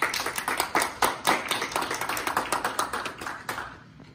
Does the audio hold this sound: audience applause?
yes